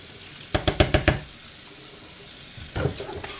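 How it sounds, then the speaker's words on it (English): Cookware being rinsed at a kitchen sink while cooking chicken paprikash: a quick run of five sharp knocks and clanks, a quiet pause, then a short wash of running tap water with splashing near the end, with no talking. "in order to maximize cleaning efficiency, we'll rinse this out."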